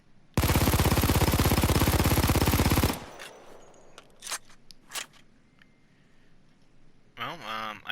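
A Mac 10 submachine gun fires a long, dense full-auto burst in the video game Payday 2, loud and unbroken for about two and a half seconds, then stops abruptly and is followed by a few scattered clicks and clatters.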